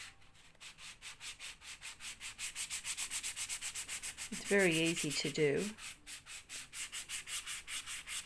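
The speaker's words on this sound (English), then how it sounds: "We are going to take a sanding block, and we are going to sand off." Medium grit sanding block rubbed back and forth across a shiny book cover, a soft rhythmic scratchy rasp repeating steadily, quiet and close, with someone briefly speaking midway.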